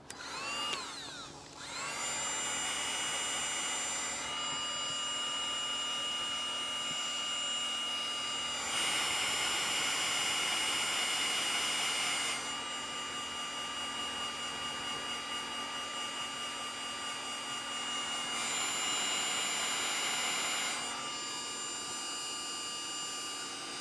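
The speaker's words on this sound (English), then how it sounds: "This heat gun's been lasting a long time too. It's not a DeWalt gun, but it runs on DeWalt batteries." A cordless heat gun running on DeWalt batteries blows with a steady, loud fan whine and whoosh close by for over twenty seconds, the tone shifting slightly as settings or airflow change.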